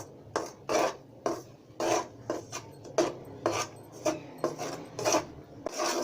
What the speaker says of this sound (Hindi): चम्मच के साथ हिलाते जाना।